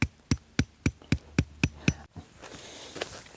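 A hammer gently taps a marker stick into the ground outdoors: seven evenly spaced, sharp knocks in steady rhythm, close by, followed by a softer rustling bed of outdoor noise.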